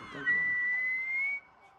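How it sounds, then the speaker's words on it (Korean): A person whistles into an iPhone: one clear, sustained tone that rises briefly and then holds steady for about a second before cutting off, close and fairly quiet. "휘파람 소리는 음악 감독이 직접 아이폰으로 녹음한 소리고"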